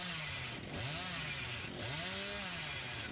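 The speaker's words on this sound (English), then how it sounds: "I'm gonna chainsaw around a bit, get some more deviousness up." A video game chainsaw revs loudly and continuously, its engine pitch rising and falling in two clear surges over a steady droning idle, with no voices.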